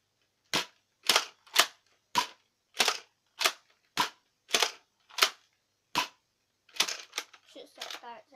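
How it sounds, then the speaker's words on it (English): Nerf Mega Cyclone Shock toy blaster firing foam darts: ten sharp, loud cracking shots in a steady rapid rhythm, with a scrappier burst of clicks and rattles at the end. "Next, we've got the Nerf Mega Cyclone Trick. It's quite a loud gun."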